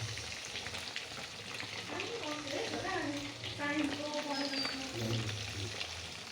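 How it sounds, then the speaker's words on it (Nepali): Fish fries in a pan with a steady crackling sizzle at moderate level, joined by a few stirring scrapes and a faint tonal background. "माछा यसरी फ्राई गरेर ग्रेभी बनाएर अनि खानुपर्छ"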